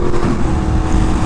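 A Yamaha R1M motorcycle fitted with a Toast exhaust roars loudly and close by in a continuous, rough engine blare, with no speech over it.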